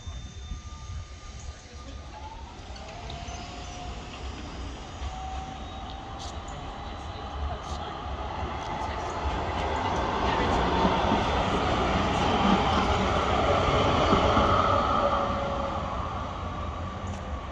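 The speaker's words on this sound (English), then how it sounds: "I think we'll end it with a tram" A tram rumbles past outdoors in bright sunlight, its low rolling noise swelling steadily to a peak and then easing off as it moves away.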